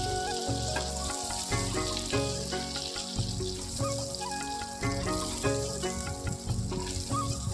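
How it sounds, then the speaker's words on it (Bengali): Shrimp sizzle steadily in hot oil in a pan, a dense continuous frying crackle with occasional utensil clinks, close and fairly loud throughout. "চিংড়ি মাছগুলো আমার ভাজা হয়ে গেছে, এবার আমি তুলে নিচ্ছি।"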